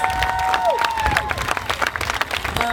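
A crowd at a My Body, My Choice rally in Huntsville, Alabama applauds and cheers the organizers, with sharp claps and a few whoops and whistles over a steady, lively wash of clapping.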